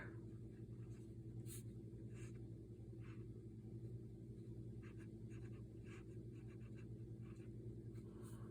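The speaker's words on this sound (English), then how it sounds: "let's do a writing test just real quick" A Pineider Avatar fountain pen with a medium nib scratches across paper in short, faint strokes, heard close up over a low steady background rumble.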